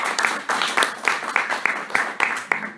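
An audience claps after a lecture on Proust's theory of love, a steady patter of hands in a hall, fairly close and lively, with a voice faintly mixed in.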